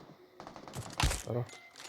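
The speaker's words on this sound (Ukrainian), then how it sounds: "він стріляє по мені" A burst of rapid gunshots cracks out amid a loud mix in the video game PUBG, with a voice talking over the firing.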